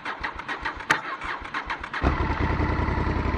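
A Honda VTR 1000 Firestorm motorcycle with the choke on and a slightly weak battery cranks with rapid rhythmic starter pulses, then catches and fires into a loud, rough idle, heard close up.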